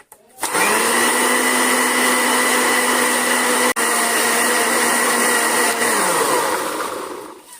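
A loud, steady blender motor whine runs continuously for several seconds, blending arugula with a little water, then winds down near the end, with no talking.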